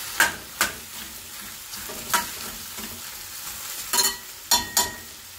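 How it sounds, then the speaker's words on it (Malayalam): Chicken and onions being stirred in a frying pan for pepper chicken, with a steady soft sizzle broken by several sharp scraping stir strokes, close and alone with no talk. "ചിക്കനും ഈ സവാളയും കൂടി നന്നായി ഒന്ന് ഇളക്കിയിട്ട്"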